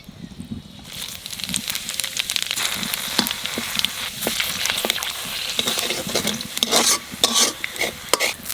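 Cumin seeds, bay leaves and dried red chilies spit and sizzle in hot oil for a jackfruit curry. A steady crackling fry runs throughout, and a spoon stirs and scrapes the pan close up.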